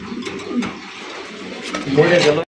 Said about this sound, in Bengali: কালা কুচকুচা নরের ডাক দেখেন ভাই মন্ডি কবুতর কিন্তু সাধারণত চুপচাপ থাকে